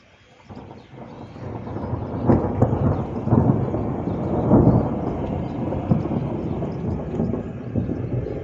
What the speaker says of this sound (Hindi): बादल जो थे वो बहुत ज़ोर से गरज रहे थे